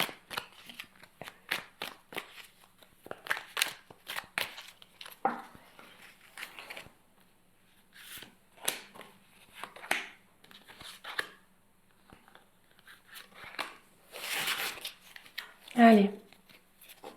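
Oracle cards being shuffled in a run of quick papery riffles and slaps, repeating through the clip alongside a person speaking.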